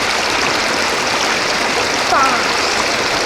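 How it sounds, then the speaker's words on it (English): Fast-flowing river water rushes in a loud, continuous broadband roar, with a brief splash near the end. "The river level rises quickly."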